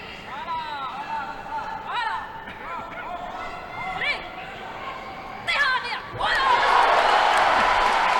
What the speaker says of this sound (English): the crowd just erupts